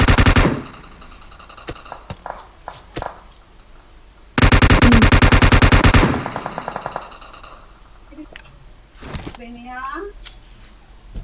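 Gunfire in the mobile game PUBG Mobile: a sharp opening burst, a few single shots, then a sustained rapid automatic volley, later quieter scattered shots, with players talking over and between the firing.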